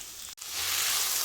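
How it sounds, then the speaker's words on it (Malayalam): Chopped onions dropped into a hot pan over a ginger-garlic and chilli paste for a Kerala-style beef curry set off a sudden loud sizzle that swells and holds as a steady bright hiss. "നമുക്കതിലേക്ക് സവാള അരിഞ്ഞത് ചേർത്ത് കൊടുക്കാം"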